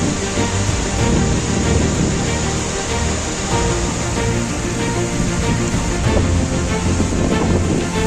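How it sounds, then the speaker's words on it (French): Cascade du Rouget waterfall roars in a loud, constant broadband rush of falling water, heard up close with wind buffeting the microphone. "C'est la cascade du Rouget."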